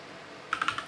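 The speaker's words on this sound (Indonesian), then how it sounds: "Jadi kita ketikkan di sini" Keys on a computer keyboard are tapped in a quick burst of about five clicks while commands are typed into a network terminal configuration, close and clear after a brief quiet lead-in.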